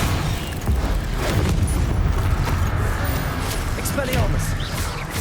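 Spell-blast explosions from Hogwarts Legacy gameplay, with low booming thuds and rumbling debris rolling continuously under loud game action throughout.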